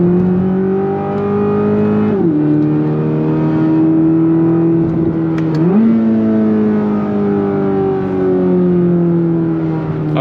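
A 2026 Chevrolet Corvette C8 ZR1 engine holds a loud, steady high idle, its pitch dipping and climbing twice as it revs, with no talk.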